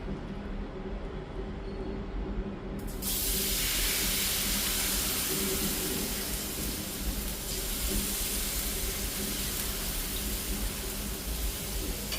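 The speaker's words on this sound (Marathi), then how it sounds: "आता आपण हे जे मुगाच्या पिठाचं बॅटर तयार केलं आहे ते आपण या तव्यावर घालूया" Moong dal batter poured onto a hot oiled tawa sizzles loudly. A quieter hiss jumps to a bright, steady, close sizzle that holds evenly for several seconds, with no talking.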